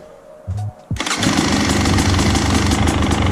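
A starter motor whirs briefly, then a motorcycle engine with a newly installed FMF Turbinecore muffler fires up and settles into a loud, rattling, steady idle with a deep, throaty exhaust tone.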